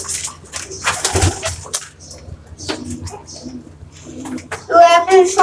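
Pigeons coo in a loft holding large breeds, Jacobin pigeons among them, soft repeated cooing close by with a denser burst of calls near the end over low background murmur.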